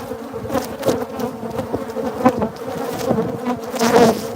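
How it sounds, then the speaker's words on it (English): Honey bees buzz densely around an open hive frame of new wax, a close, loud, continuous drone with wavering pitch and individual bees flying past the microphone, no talking. "I can see all the bees on the camera"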